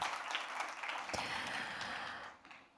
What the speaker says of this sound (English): Big applause for Gabriela.